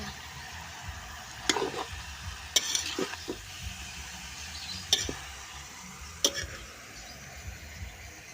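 Pork chicharon frying in its own rendered fat gives a soft, continuous sizzle and crackle, with a few sharp pops and utensil taps scattered through it.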